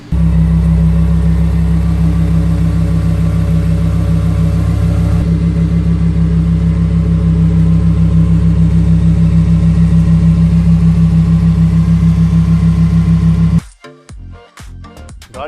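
A car engine idles steadily while the vehicle reverses and is parked, a loud, constant low hum throughout that cuts off abruptly near the end, leaving brief scattered knocks.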